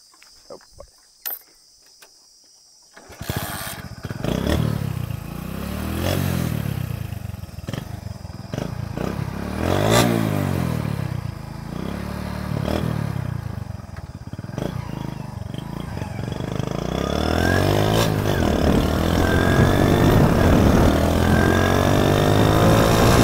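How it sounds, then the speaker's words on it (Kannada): Modified Hero Honda Splendor motorcycle starting after a few clicks, then revving repeatedly with rising and falling engine pulls and a busy exhaust note, close and loud, settling into a higher sustained rev at the end. "ಸೊ ಫೈನಲಿ ಗಾಡಿ ಚಾಲೂ ಮಾಡಿ ಒಂದು ರೇಟ್ ಹೊಡೆದು ನೋಡೋಣ ಹೆಂಗೆ ಕಾಣ್ತೈತೆ ಅಂತ ಹೇಳಿ."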